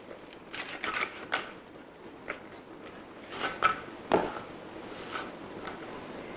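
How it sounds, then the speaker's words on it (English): A spatula scraping down the inside of a Thermomix bowl while making hommus, a series of short, soft scrapes and taps at irregular intervals, close and fairly quiet. "scrape down the bowl with the spatula"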